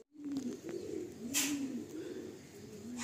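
A pigeon coos in several low, rolling phrases, close and clear, with a couple of brief rustles or flaps in between and no talk.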